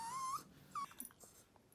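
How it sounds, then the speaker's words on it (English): A dog whimpers twice in short, high-pitched whines, quiet and close, followed by faint snuffling sounds. "It's a doggy."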